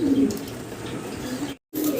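A pair of pigeons coos in a low, continuous throaty murmur, close and steady, with a brief break near the end before the cooing resumes.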